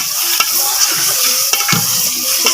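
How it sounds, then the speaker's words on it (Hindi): Chicken pieces frying in a pan with ginger, garlic and green chili paste, a steady close hiss of sizzling broken by sharp stirring scrapes and taps. "इसके साथ ही हम चिकन ऐड कर देंगे। इसकी हम अच्छे से फ्राई करेंगे।"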